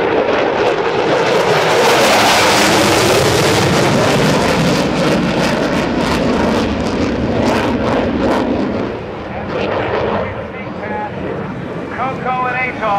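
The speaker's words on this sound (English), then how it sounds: "Touching down, Dan McCue." A vintage warbird touching down at the 2010 NAS Oceana Airshow, its loud engine roar rumbling and rising and falling under wind noise, with a voice on a public address system talking over it.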